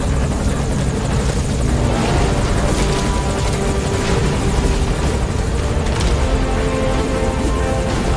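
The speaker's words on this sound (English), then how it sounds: "And there's our chopper." Helicopter in the Metal Gear Solid V: The Phantom Pain gameplay arriving at a landing zone, a loud, steady rotor roar with dense broadband chop holding throughout, no voices.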